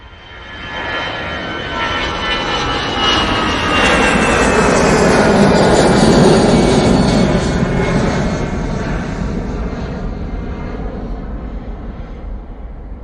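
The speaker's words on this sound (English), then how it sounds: "This is the Easyjet going off to Belfast." An easyJet airliner takes off from Manchester bound for Belfast, a loud, close jet roar building over several seconds, peaking mid-clip with a rising whine, then tapering off as it climbs away.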